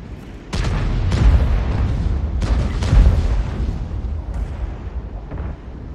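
B4 howitzer firing a shell and scoring a hit in World of Tanks, a few heavy booming blasts with deep rumbling tails over a loud continuous low roar.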